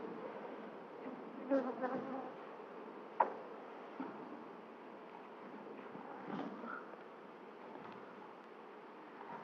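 Honey bees hum steadily around a beehive during a September colony inspection on goldenrod, a soft, continuous buzz with a few brief louder passes nearby and no talking.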